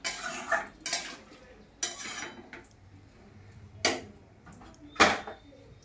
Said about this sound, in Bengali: একটু চালাইলি আর ঢাকা দিয়ে দেবো।